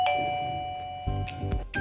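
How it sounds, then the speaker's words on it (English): A wireless doorbell chime from a video doorbell camera set rings after its visit key is pressed, giving a sustained electronic tone followed by a few bright, close ding notes. "Press the visit key, then the chime will ring."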